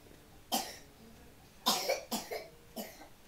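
A child coughs nearby in four separate bursts, a single cough followed by a tight cluster of three, each short and harsh against a quiet room.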